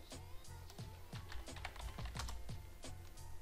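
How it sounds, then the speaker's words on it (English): Quick, uneven clicks of typing on a computer keyboard, close and crisp, with keystrokes bunching into bursts and no talking over them. "press T in the keyboard"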